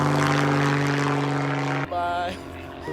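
A propeller airplane drones loud and close with a steady engine roar in the Arctic wilderness, then the tone drops and thins as it pulls away.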